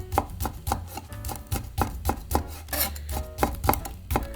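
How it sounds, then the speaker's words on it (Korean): Knife chopping through jujubes on a cutting board, thin slices made in a quick, steady rhythm of close, crisp taps, roughly four or five cuts per second, heard alone without talk. "대추를 얇게 채 썰어주세요"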